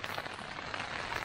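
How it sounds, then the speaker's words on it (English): Steady rain patters on a tent at a campsite during a cycling ride, a soft, even, continuous hiss with no voices. "You can probably hear it's raining outside."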